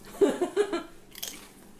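A tortilla chip dipped in homemade salsa is bitten and crunched, a few close crisp chomps followed by softer chewing, with a brief burst of breathy noise at the end.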